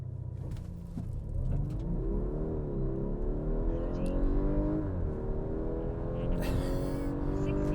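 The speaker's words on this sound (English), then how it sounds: "I feel like the 45 could have done better though if it allowed me to hold the revs higher at launch." A 2021 Audi A5 45 coupe in dynamic mode with traction control off launches hard from a standstill, its engine note climbing steadily through the gears with brief dips at each shift, loud and continuous throughout.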